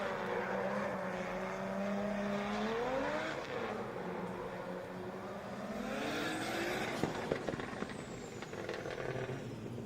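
Drift cars warm their tires in the burnout area at the APD Cruise Circuit in Malaysia during a Drift Kings Asia Cup final, engines droning and revving steadily with rising and falling pitch, loud but a little distant, with no talk.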